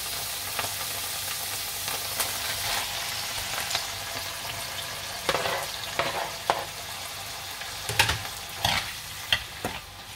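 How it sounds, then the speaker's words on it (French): Tomato and calf's liver sizzle in a pan, a steady moderate frying crackle with intermittent louder stirring scrapes and clanks toward the end, no speech. "on va laisser cuire la tomate avec la viande de veau"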